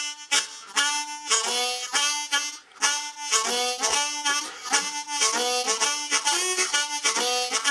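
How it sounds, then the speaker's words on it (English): Good-morning blues lick played on a G harmonica, a phrase of 1 draw, 2 blow and 2 draw notes in a bright, reedy sequence of short bends and repeated tones, close and clear with no talk. "the good morning lick sounds like this."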